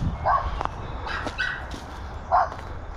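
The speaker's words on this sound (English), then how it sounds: "we've upset the local dogs" Local dogs bark near the abandoned section of the Basingstoke Canal at Brick Kiln Bridge: a few separate yips and barks, moderately distant, over outdoor background noise.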